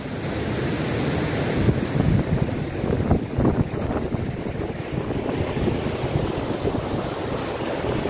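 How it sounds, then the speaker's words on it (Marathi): Kumbhe waterfall plunging about 300 feet into a deep gorge, heard as a loud, continuous roaring rush of water with wind buffeting the microphone, steady throughout with no talking. "कुंभे हा धबधबा साधारणपणे 300 फूट खोल जमिनीमध्ये कोसळतो"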